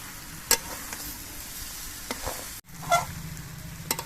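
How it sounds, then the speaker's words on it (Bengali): Jackfruit sizzles with potatoes and spices as it is sautéed in a pan: a steady frying hiss broken by occasional sharp stirring scrapes and clinks, close and moderately loud. "এবারে আলু দিয়ে এচুর দিয়ে মশলা দিয়ে আবার কিছুক্ষণ কষিয়ে নিতে হবে"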